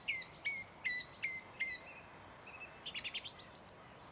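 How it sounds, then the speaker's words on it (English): A song thrush sings on a fen in Fulbourn, Cambridgeshire, giving a run of repeated clear whistled phrases followed by a rapid chattering burst, moderately distant over quiet outdoor ambience. "As a song thrush joins us in the background."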